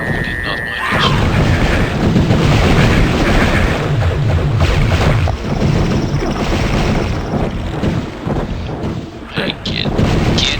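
Fireworks-like magical blasts in the dark fantasy shooter Hexen, loud booming explosions that repeat in a dense, chaotic barrage, with someone talking briefly over them.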